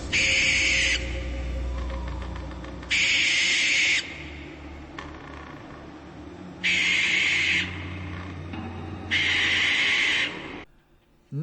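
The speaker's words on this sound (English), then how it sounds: "Next up, we have the 6-foot Night Owl animatronic with a 5'4" wingspan." A Spirit Halloween Night Owl animatronic, a 6-foot owl figure with a 5'4" wingspan, gives four loud, shrill hooting bursts at even intervals, with quieter mechanical whirring between them.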